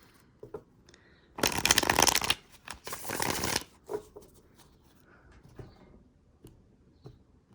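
Tarot cards are shuffled close by in two quick riffling bursts, crisp and papery, followed by soft handling taps and near-silence.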